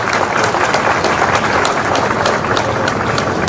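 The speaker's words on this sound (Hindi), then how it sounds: "जब बधाई देना तो 2-4 ताली क्यों बजना चाहिए" Dense, steady applause from an audience at a speech by Chief Minister Mohan Yadav at an event in Satpura, sustained and loud throughout with no voices standing out.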